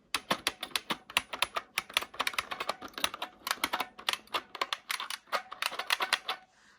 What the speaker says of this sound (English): it is that glorious clicky type of keyboard